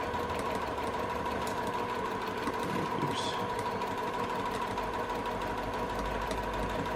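Sewing machine stitching fabric for an origami tote bag, a steady close whirring hum running throughout with people chatting over it.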